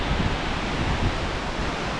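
Strong wind gusting outdoors, a steady loud broadband roar buffeting the microphone with low rumbling surges throughout, no talking.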